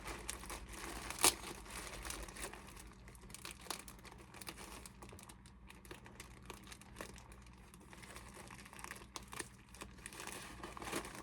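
Packing tape being pulled and peeled off a soft mailer package, faint close crinkling and tearing with scattered small crackles, quiet and without talk.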